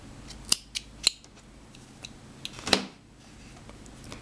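Scissors snip through wool yarn while a doubled two-colour crochet flower is made, a few sharp, close cuts spread out with quiet pauses between them.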